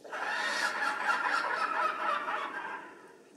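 Broadcast call of an adult Rhamphorhynchus in Path of Titans, a gull-like squawking cry with a run of harsh, overlapping calls that holds loud and steady, then tapers off near the end, with no talking.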